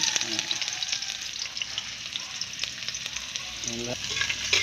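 Onions stir-fry in a pan with a steady, close sizzle and crackle, broken by occasional scraping strokes of a utensil, with a brief voice in the background.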